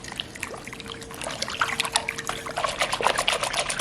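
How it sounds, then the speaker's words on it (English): Filtered water for sourdough pours in a steady trickle that runs continuously and fairly close, with some splashy texture near the end, alone without talk. "now I'm going in with 350 grams of filtered water"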